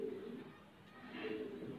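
A female high-flyer pigeon held in the hand coos softly, a low, faint murmur in two short swells with a quiet gap between them.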